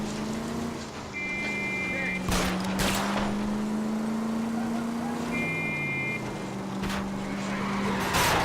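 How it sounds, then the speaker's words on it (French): A car skidding during a chase in the video game L.A. Noire, engine drone and tire squeal with repeated high beeps over it, while someone talks throughout. "quand t'as une course-poursuite, le véhicule il glisse sur le sol, il roule pas, il glisse."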